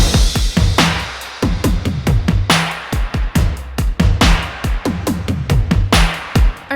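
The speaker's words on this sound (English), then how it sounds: "I'll play you the drum section that I have." A loud pop drum section drives forward with a heavy kick layered with a stomp, steady rhythmic hits and bright snappy transients repeating densely throughout, with no voices.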